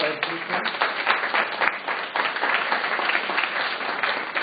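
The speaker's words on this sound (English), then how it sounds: "I'd actually like to ask you to provide some applause to our brave panelists up front." An audience at a live business event applauds its panelists, with steady, moderately loud clapping that continues evenly for several seconds in a muffled, band-limited recording.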